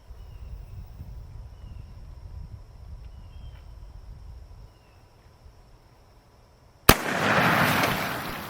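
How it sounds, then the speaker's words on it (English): .357 Magnum carbine fires a 180 grain wide flat nose cast bullet into ballistics gel. A quiet outdoor lull with insects breaks into one sharp, loud gunshot crack near the end, followed by a brief rushing echo. "the first shot we're going to take here is going to be with the 180 grain bullet from Cast Performance."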